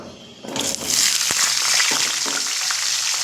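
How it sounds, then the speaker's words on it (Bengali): Pumpkin pieces fried in oil on a high flame, a loud, dense sizzle that bursts up as they hit the pan and then holds steady, with a few stirring knocks and no talk. "এবার ভেজে নেব কুমড়োগুলো"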